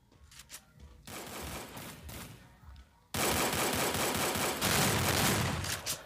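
Gunfire in a shooter video game: scattered shots at first, then sustained rapid automatic bursts that grow louder and denser, near and continuous.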